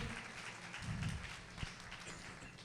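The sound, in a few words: applause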